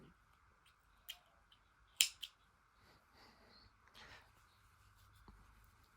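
Scissors give a couple of sharp snips, trimming a yarn end off a crocheted scrunchie; the cuts are quick and fairly close in a quiet room.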